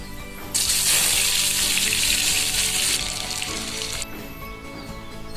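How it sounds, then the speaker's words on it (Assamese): Bitter gourd pieces hit a hot wok with a sudden loud sizzle that hisses steadily for a few seconds, then drops to a softer frying murmur. "এইখিনি প্ৰথমতে ভাজি ল'ব লাগিব।"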